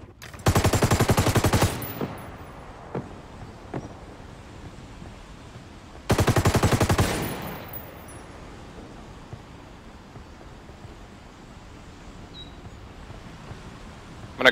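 Two loud bursts of automatic gunfire in a Ghost Recon Wildlands match, each rapid string lasting about a second, separated by a pause and followed by a few scattered single shots with fading echo.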